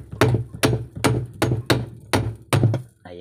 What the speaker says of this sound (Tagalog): Yan, mayroon na tayong martilyo. So ito ay pukpukin lang natin papuntang baba.